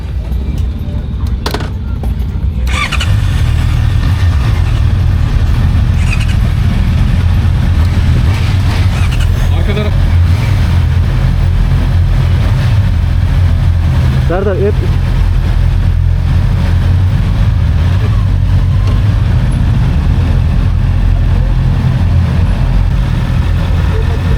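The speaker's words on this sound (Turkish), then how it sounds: "Çalıştıralım mı ya? Motorları çalıştıralım." Several Honda CBR 650R motorcycles idle and rumble together at a test event, a loud continuous low engine drone with occasional revs, and voices calling out over it.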